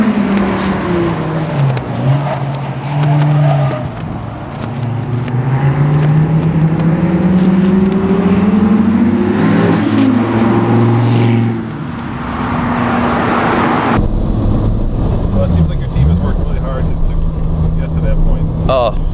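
A 2013 SRT Viper on a race track, its engine roaring and rising in pitch as it passes, steady and loud across the stretch, with people talking over it.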